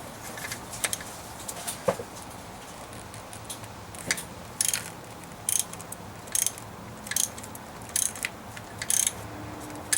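Ratcheting socket wrench turning a 24mm fuel injector nut on a Cummins 6BT 12-valve diesel engine in a 1995 Dodge Ram, with short bursts of clicking repeated at intervals over a low background hum.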